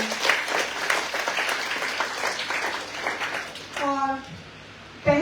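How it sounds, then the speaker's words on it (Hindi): An audience at a school poetry recitation competition breaks into applause, a dense wash of clapping that fades toward the end before a voice speaks. "इनके लिए जोरदार ताली।"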